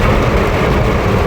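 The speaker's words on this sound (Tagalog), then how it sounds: "malakas pa rin ulan." Heavy rain heard from inside a car, a loud, dense, unbroken wash of drumming noise on the roof and windows, steady throughout with no talk.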